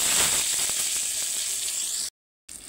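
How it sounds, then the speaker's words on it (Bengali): Eggplant slices fry in a hot pan with a bright, loud sizzle that hisses continuously close up, then drops out for a moment before resuming. "এবার আমি বেগুনগুলো ভেজে নেব।"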